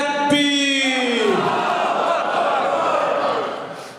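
A large crowd at a religious Milad gathering shouts a loud, unified response to a slogan, a swelling chorus of voices that rises, holds, then fades near the end.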